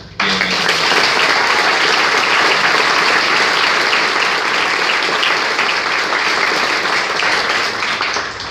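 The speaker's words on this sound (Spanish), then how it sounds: "para el cual pido un aplauso" Audience applause for a guest at a talk, a sustained, even wash of many hands clapping for about eight seconds with no voices over it.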